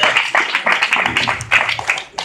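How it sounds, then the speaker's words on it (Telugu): Applause from an audience at a January 26 stage program after a speech, loose uneven bursts of hand claps with small pauses, fairly close and moderately loud, thinning toward the end. "చక్కగా ప్రసంగించినటువంటి ఆయనకి క్లాప్స్ కొట్టి"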